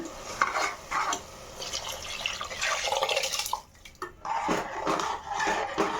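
Soaked rice and water pour and splash into a metal pressure cooker, a stirring, dripping rush that breaks off briefly and resumes, close up; no talking.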